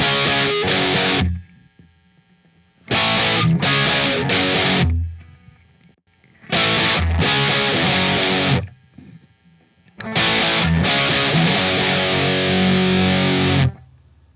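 Heavily distorted electric guitar plays the verse riff in loud chugging bursts separated by short silences, with several stops and restarts and no voice over it.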